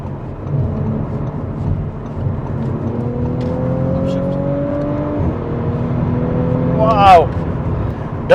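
An Audi RS5 accelerates hard up a highway exit ramp, its engine note climbing through the gears with a pause at each shift, heard from inside the cabin. A short excited vocal whoop comes near the end.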